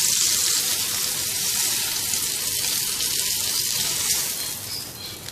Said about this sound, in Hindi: एहतियात के साथ पलटते हुए हर तरफ से इनको फ्राई कर लेंगे।